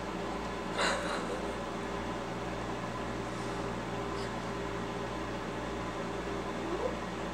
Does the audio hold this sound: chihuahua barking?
no